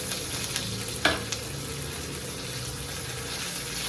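Sliced ginger and curry leaves sautéing in a pan for chicken varuthathu, with a soft, continuous sizzle at low volume and one sharp clack of a spoon against the pan near the start.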